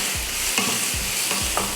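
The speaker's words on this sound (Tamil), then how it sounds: "கேரட் வந்து ஒரு 3லேருந்து ஒரு 4 நிமிஷத்துக்கு இந்த மாதிரி அந்த நெய்யில் வந்து வதக்கிட்டோம்னா நல்லா வெந்து வந்துடும்" Grated carrot sautés in ghee with cashews and raisins, a dense continuous sizzle close up with several soft scraping stirs of a spoon across the pan in a short burst.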